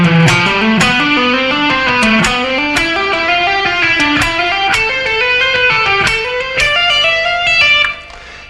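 Distorted electric guitar plays a quick legato lick full of hammer-ons and pull-offs, the notes climbing steadily across the strings, loud and alone before dropping away at the end.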